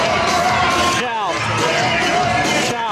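A stadium crowd at a Banana Ball game in Savannah roars and shouts together in a loud, sustained swell, with an announcer's voice rising over the noise.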